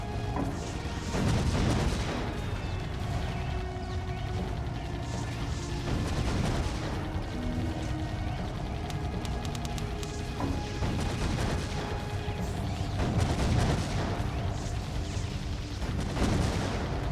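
Meteor strikes in the tower defense game Defense Grid: The Awakening come as repeated heavy booming impacts and crashes every few seconds over a steady rumbling bed of game sound, loud and dense.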